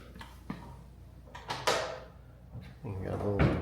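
Display drawers being pulled open and pushed shut in a natural history museum about rocks and mountains, giving a few wooden knocks and a longer sliding scrape, with people talking nearby.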